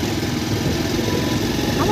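A borrowed motorbike runs steadily on a ride in light drizzle, its engine a continuous close drone with a faint high whine near the end, with no talk over it.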